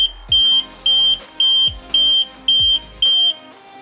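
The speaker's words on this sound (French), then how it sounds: "tu vas avoir 8 bips qui annoncent le verrouillage du véhicule" A loud electronic alarm on a Zontes motorcycle sounds a steady run of sharp lock-confirmation beeps, about six evenly spaced chirps, each with a thump beneath it.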